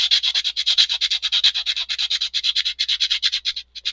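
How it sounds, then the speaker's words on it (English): Sandpaper rubbed by hand over a 3D printed toy figure, a rapid steady run of short rasping strokes, close and fairly loud, with no talking. "We're almost to needing a fresh piece of sandpaper because I've put this one through its paces."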